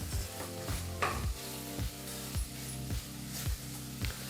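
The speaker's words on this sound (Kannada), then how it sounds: "ಉಪ್ಪು ಮತ್ತು ಹಸಿ ಬಟಾಣಿ ಚೆನ್ನಾಗಿ ಮಸಾಲ ಜೊತೆ ಬೆರೆಯೋ ಹಾಗೆ ಮಿಕ್ಸ್ ಮಾಡ್ಕೋಬೇಕು" Fresh green peas and salt being stirred into frying masala in a pot, a steady soft sizzle broken by regular scraping strokes of a spoon roughly every half second, close and alone.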